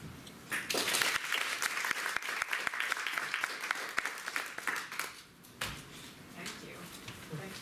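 An audience applauds steadily at a talk welcoming Virginia Heffernan, dense clapping from a crowd that swells briefly and then tapers, with some voices underneath.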